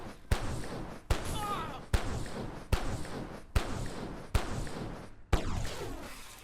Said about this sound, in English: you just shoot it a whole bunch and it will eventually die